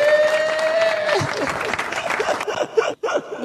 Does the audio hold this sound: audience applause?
yes